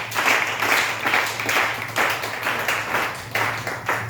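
A church congregation claps and applauds together, a dense, loud, continuous patter of many hands that rises and falls in waves, heard close.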